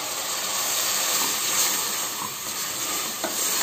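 Tomato paste hits sautéed onions in a hot pan, giving a steady, close hiss and sizzle throughout, with faint stirring scrapes and no voices.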